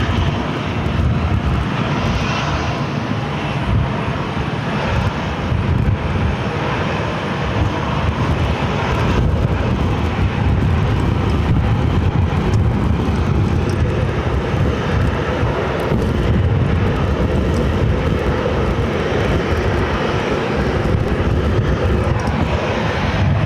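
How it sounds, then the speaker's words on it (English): Southwest Boeing 737-700 jet at Phoenix airport: a sustained, broad engine roar with rumble and wind, steady and fairly close throughout, with no talking. "It's a 737-700 with Southwest"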